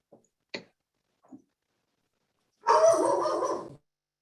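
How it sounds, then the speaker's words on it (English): A dog barks in a quick burst of several loud, close yaps, after a few short faint sounds, breaking into an otherwise quiet medical society delegates' meeting. "we hear the dog."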